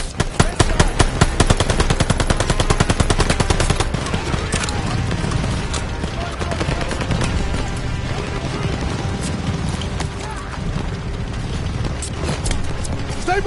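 Rapid bursts of machine gun fire rattle through a war video game battle near half-track vehicles, dense and loud at first, then continuing as a steady busy barrage with clattering mechanical sounds layered underneath.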